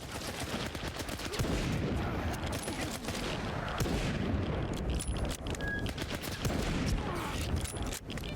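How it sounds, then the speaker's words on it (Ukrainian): Rapid bursts of rifle gunfire in S.T.A.L.K.E.R. 2: Heart of Chornobyl, with a game-like, processed quality over a constant noisy background, shots coming in quick succession. "Ну і стріляє непогана ця гвинтівочка,"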